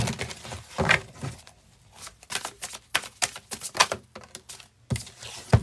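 Rapid flutter of tarot cards being riffled and shuffled in quick bursts, close and crisp, with short pauses between.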